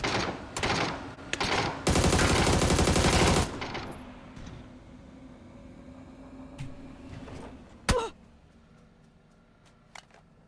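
Bursts of automatic gunfire in a shooter video game, a loud sustained volley followed by scattered quieter shots and a sharp single crack later, with game ambience between.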